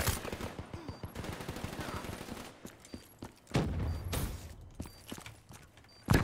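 Gunshots in Call of Duty: Black Ops 3 multiplayer, dense rapid fire with thumping impacts that drops away, then returns in a few heavy bursts and a final sharp shot, with a player's voice mixed in.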